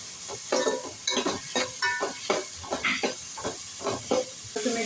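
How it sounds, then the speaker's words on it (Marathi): Five large finely chopped onions sauté in a pan for a potato and pea curry, with a continuous sizzle broken by rhythmic scraping stirs about every half second, close and fairly quiet, with no voices. "आता इथे पाच मोठे कांदे बारीक चिरलेले आहेत ते घालूया परतून घेऊया"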